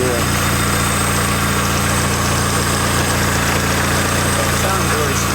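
A turbocharged Honda Civic idles with a newly fitted 3-inch exhaust, giving a steady, loud, dense drone that holds unbroken from start to finish.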